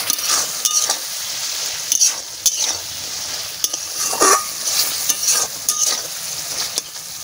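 A vegetarian dish cooking with garam masala, stirred in a pan: soft continuous frying hiss broken by repeated spatula scrapes and light clinks, close and unhurried.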